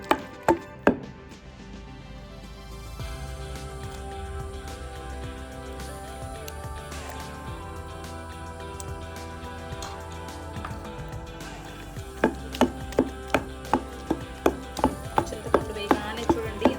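Pounding ingredients for spicy roti pachadi in a mortar, with tamarind among them: a few sharp thuds at the start, then a steady run of evenly spaced strikes near the end, close and distinct over a low background hum.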